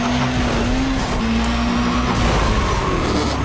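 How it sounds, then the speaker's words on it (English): A car drifting with a steady engine drone and continuous tire squeal in a racing video game, loud and close throughout the short stretch, with no talk over it. "It's automatically drifting again."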